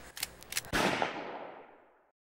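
A gunshot in a comedy news show scene: a few quick sharp pops, then one loud blast that rings and fades over about a second and a half, with no talk.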